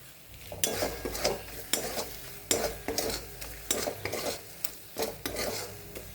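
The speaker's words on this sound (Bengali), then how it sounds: "মশলা একদম পুরো ভাজা হয়ে গেছে, একদম লাল হয়ে গেছে মশলা" Spice paste for a small-fish curry frying in a pan, a spoon scraping it around in quick, regular strokes over a continuous close sizzle, with no talking.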